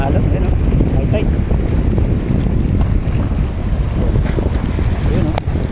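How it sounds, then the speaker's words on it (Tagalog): Strong high-tide waves surge around a small boat, heavy wind buffeting the microphone under a constant loud roar and low churning wash. "Malakas yung ano, alon, yan o. High tide."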